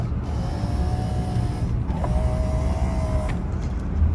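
Electric power windows on a 1965 Cadillac Eldorado convertible whine steadily as they move, two motor runs separated by a short pause, near and fairly quiet over a low background rumble.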